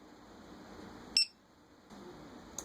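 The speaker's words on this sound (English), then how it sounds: "Low voltage alarm for internal battery." A Dronekeeper mini2 sounds its low-voltage warning for the internal battery: one short, sharp electronic beep over a faint background hum, followed by quiet.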